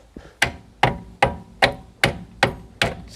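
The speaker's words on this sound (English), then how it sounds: "just going to tap it with the old hammer" A hammer tapping a stuck rear brake disc on an Audi A2, eight evenly spaced metallic knocks at a steady rhythm, close and clear with a short ring after each strike.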